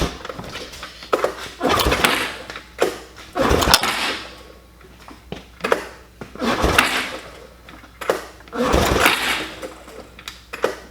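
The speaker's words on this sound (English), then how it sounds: "while I pull over the engine here" Repeated pull-starting of a cheap ATV engine with the throttle wide open, with about five rhythmic rasping cranking bursts spaced a couple of seconds apart, close and fairly loud.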